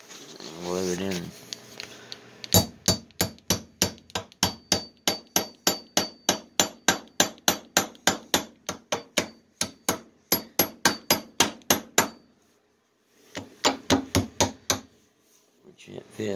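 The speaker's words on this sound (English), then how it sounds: "Grab your hammer, pop it in there, and glue it in." A hammer drives a caster wheel insert into a wooden table, dozens of sharp, evenly spaced close blows in a steady rhythm, with a brief pause and a voice speaking before and after the strikes.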